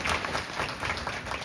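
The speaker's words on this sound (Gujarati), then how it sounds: "નેહલબેન ગઢવીનો ખૂબ તાળીઓથી સ્વાગત કરીએ" Applause welcoming Nehalben Gadhvi at a women's awareness camp, a short burst of crowd clapping, fairly even and moderately loud, heard on its own.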